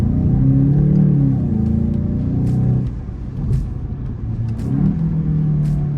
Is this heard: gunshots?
no